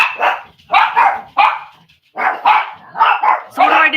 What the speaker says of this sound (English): Do I tell them to be quiet or do I let them bark?